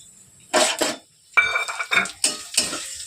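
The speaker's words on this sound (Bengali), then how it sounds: "দিয়ে আমরা আগে সিমুইটা ভেজে নেবো একটু" Vermicelli (simui) is stirred while frying in a pan for a payesh dessert, with several close, loud scraping and clattering strokes of a utensil against the metal, separated by brief pauses.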